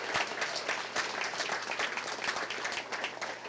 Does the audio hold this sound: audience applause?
yes